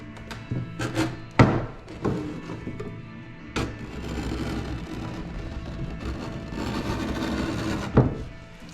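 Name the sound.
scraping old varnish off wooden cabinet with saw back edge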